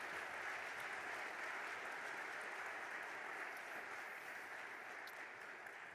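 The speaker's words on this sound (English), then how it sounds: "So I think they deserve a round of applause." An audience applauds a panel at a Baltic offshore wind industry forum. The clapping is dense and sustained for several seconds, even and somewhat distant, slowly easing toward the end.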